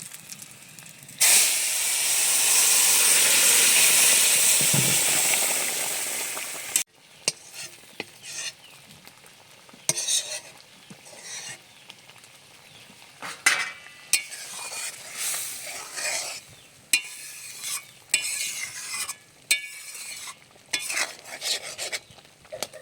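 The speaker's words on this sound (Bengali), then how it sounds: "ডালটা এখানে ঢেলে দেবো।" Mung dal poured into a pan of hot oil and spices (cumin powder) erupts in a loud, steamy hiss lasting several seconds. The sound then drops to quieter bursts of sizzling and stirring scrapes, with no one speaking.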